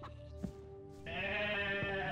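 Sheep and goats bleat in the online game Gothic Online, with a short animal call early on and then a sustained, bright bleating tone for the second half, no talk over it.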